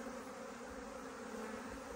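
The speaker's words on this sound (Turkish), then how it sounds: "Şöyle dağıldı arı. Arı dağıldı. Büyük ihtimal kraliçe'yi arıyorlar." A swarm of honeybees scattering from a hive in search of their queen makes a dense, steady buzzing drone that fills the air, close and even, with no voices.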